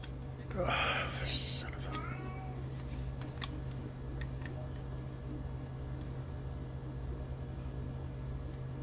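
A cat meows a few times close by in a shop where a 1978 GMC off-road bed is being assembled, short cries early on, then low background hum and occasional clicks.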